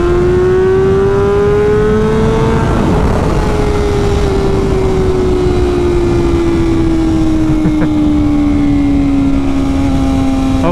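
A Ducati Panigale V4 SP engine drones loudly and steadily up close, its pitch climbing briefly and then sliding gradually lower as it drops through gears, with no talk over it.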